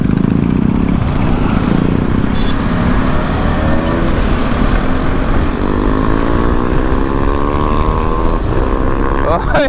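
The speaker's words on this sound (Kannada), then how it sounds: "ಸೀರಿಯಸ್ಲಿ ಇಷ್ಟೊಂದು ಸೌಂಡ್ ಬರುತ್ತಾ ನನ್ನ ಗಾಡಿ?" A motorcycle with an aftermarket exhaust, a loud droning engine note that rises and shifts as it rides past and away, while people talk over the noise.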